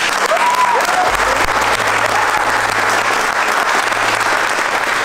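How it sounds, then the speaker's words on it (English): Loud, dense applause from a crowd at a strength competition event, steady and continuous throughout with a few whistles and a low hum beneath. "a huge round of applause for fighting"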